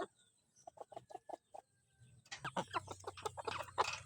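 Five-month-old Kelso Hini yellow-legged gamefowl with straight combs give a run of short, evenly spaced clucks, then a busier burst of overlapping clucking and calls from several birds nearby.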